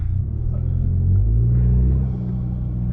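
Low engine rumble from a 2021 Honda Accord Sport 2.0T with a stage 3 tune and a K&N intake, swelling steadily as the car accelerates from low speed, heard from inside the cabin with no talking.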